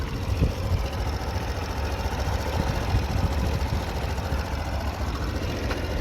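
A Honda Super Cub AA04 fuel-injected moped engine idles steadily at close range, a continuous low, even mechanical hum with no talking.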